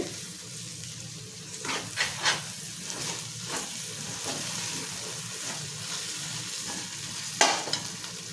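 Green chillies and mint fry in a pot for gongura pulao, with a steady sizzle and intermittent spoon stirring and scraping, including a sharper clink near the end.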